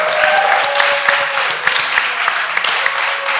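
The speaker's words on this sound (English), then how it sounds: "Let's have a nice round of applause for Mark." A room full of people claps warmly for a speaker at a recovery-themed gathering, a dense, steady round of applause heard up close for several seconds with no talk over it.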